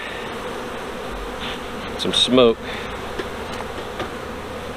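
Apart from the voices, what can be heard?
honeybees buzzing around a hive during inspection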